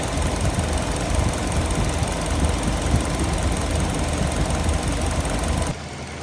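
A 2019–2024 Kia Forte engine idling after a water pump replacement, a steady loud rumble with a faint ticking texture that runs unbroken for several seconds before abruptly dropping to a quieter level near the end.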